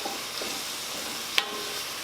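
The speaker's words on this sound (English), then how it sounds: "And I'm going to put some fresh garlic in here. And then I'm just going to stir this up." Fresh garlic frying in a pot gives a faint, steady sizzle while being stirred, with one sharp utensil click partway through; no voices.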